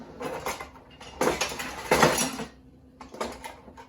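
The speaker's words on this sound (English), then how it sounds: "I'm going to use our mandolin." An old kitchen mandoline slices peppers in quick bursts of clattering, scraping strokes, close and moderately loud, separated by brief pauses.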